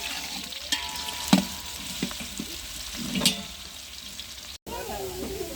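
Onions drop into hot ghee and fry with a soft crackling sizzle, punctuated by a few stirring clacks. Close and moderately loud, with a brief cut near the end.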